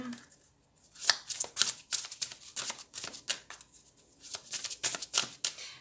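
Oracle cards are shuffled by hand up close, making quiet, crisp riffling bursts in an uneven rhythm with short pauses between them.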